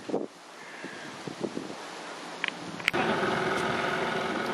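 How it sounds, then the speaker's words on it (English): Wind gusting at a bus stop on Skiathos near a beach road, a steady broadband rush that swells louder partway through, with a few faint knocks and no talk. "It's rather windy here today."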